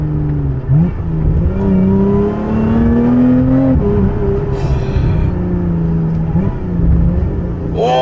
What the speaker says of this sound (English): this supercharger whine is such a fucking amazing little thing